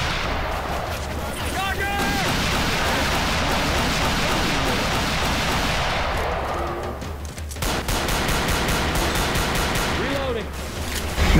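Dense, loud shotgun fire in a Left 4 Dead 2 Versus match on Dark Carnival, overlapping blasts and chaotic game noise packed throughout, with voices talking over it.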